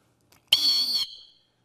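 A $5 plastic rescue whistle gives one extremely loud, shrill blast of about half a second, near and alone, then a brief fading tail.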